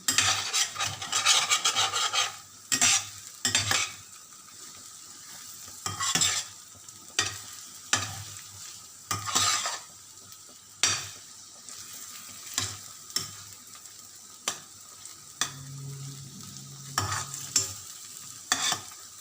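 Spatula scraping and stirring scrambled eggs with garlic, onions and tomatoes in a frying pan, repeated sharp scrapes over a steady soft sizzle, close and clear with no talk.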